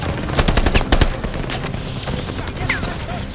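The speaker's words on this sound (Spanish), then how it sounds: "¡Contened esa ametralladora!" Rapid machine gun fire in a Call of Duty Vanguard battle, loud, dense bursts clustered at the start and then continuing as rattling fire under battlefield noise.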